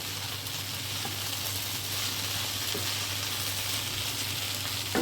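Okra and potato bhaji stir-fried in a pan gives off a constant, dense sizzle that stays steady and fairly close throughout, with no talking.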